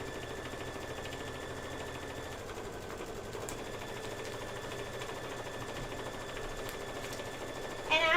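A Kimberbell embroidery machine runs its quilting stitch in a continuous, even mechanical whir with a fast needle rhythm, close and steady throughout with no talking.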